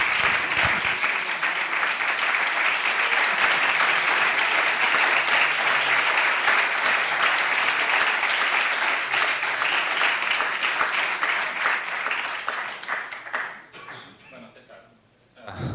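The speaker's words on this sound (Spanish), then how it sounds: "aplausos para vosotros también porque habéis cantado fenomenal" An audience at a music talk claps loudly and continuously after singing together, with voices mixed into the applause, which fades out near the end before a brief pickup.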